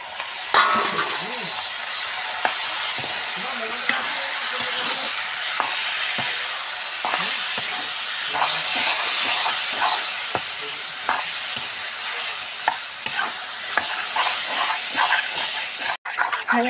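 Taro and meat stirred in a pan with a spatula, a continuous close sizzle and hiss broken by repeated scraping strokes, loud and without talk.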